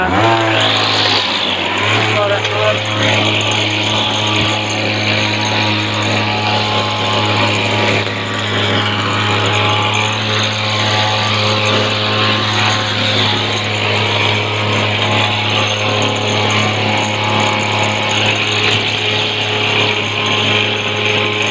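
A string trimmer engine revs up to full throttle, a loud, close, sustained high-pitched buzz that holds steady for the whole stretch after a brief rise at the start.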